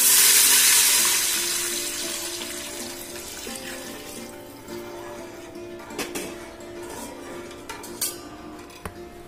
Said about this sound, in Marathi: जरा मी इथे जास्तीचं पाणी घालणार आहे